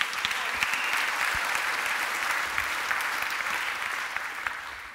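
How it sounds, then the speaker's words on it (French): An audience at the Cloudforce Paris conference gives a sustained round of applause, many hands clapping in an even, continuous wash that holds at a steady level and tapers only slightly near the end. "On peut l'applaudir."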